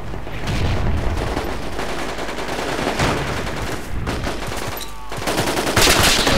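Sustained bursts of light machine gun fire in the military shooter Project Reality, loud and close, rattling continuously across the whole stretch with dense overlapping gunfire and a few sharper reports near the end.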